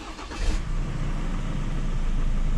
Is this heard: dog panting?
no